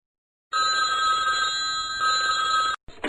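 A telephone rings with a bright, sustained electronic trill lasting about two seconds, starting after a short silence and cutting off abruptly, followed by a brief burst of noise.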